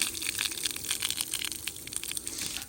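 Brown water gushing from a small trail spigot, a continuous splashing, hissing stream that stays fairly steady and moderately loud throughout.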